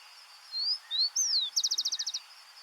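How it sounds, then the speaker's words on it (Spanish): Rufous-collared sparrow (chingolo) singing in Buenos Aires: a few clear, sweeping whistled notes followed by a fast, even trill of about ten bright notes, close and alone against a quiet background. "El chingolo, es un pájaro pequeño y elegante de canto inconfundible"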